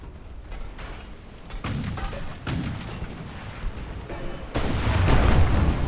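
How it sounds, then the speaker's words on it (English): Ammunition detonates aboard a warship in the naval battle game Ultimate Admiral Dreadnoughts, a string of heavy booming blasts and rumbling gunfire building to a loud, sustained explosion at the end. "Alright, ammo detonated."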